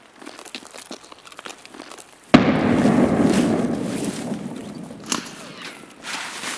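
A flashbang blast in Escape From Tarkov lands sharply partway through, trailing into a long crackling, rustling wash with a smaller pop later, after quieter scuffling movement at the start.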